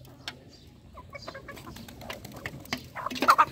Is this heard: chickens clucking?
yes